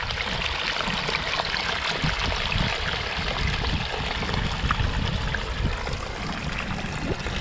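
A garden water feature sends water trickling down through a pinch point in a continuous, gentle babble, close by and steady throughout with small splashy flickers.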